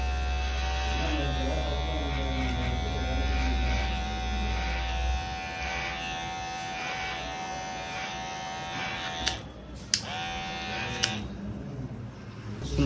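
An electric hair clipper buzzes steadily while cutting hair at the back of the head, a close, continuous whine with a few brief clicks and bumps near the end, no talk.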